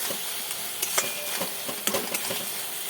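A turmeric, chilli and salt masala with green chillies being sautéed in a pan for a fish curry, giving a steady close sizzle broken by scrapes and clicks of stirring.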